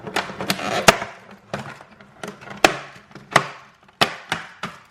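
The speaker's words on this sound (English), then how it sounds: "So I want to open these lids for you." Plastic lids of store-bought buttercream vanilla cake containers snap and crackle open in a string of sharp close clicks and crinkles, spaced irregularly with brief pauses between them.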